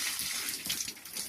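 Water splashes and pours steadily as pigs are bathed on a farm, a brief close gush with shifting spray.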